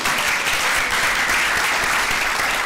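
A short burst of enthusiastic applause from a roomful of people at a school district board meeting, dense steady clapping with no voices over it.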